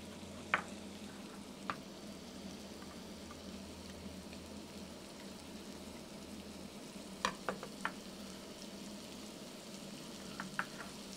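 Onions and garlic cooking in a pan, a faint steady sizzle and crackle with a few small clicks and knocks from the kitchen, no talking.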